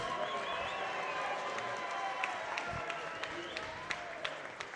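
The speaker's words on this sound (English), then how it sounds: "Ladies and gentlemen, how about a round of applause for both these fighters?" A crowd at a boxing event applauds both fighters, faint and distant, with scattered claps and a soft murmur of voices.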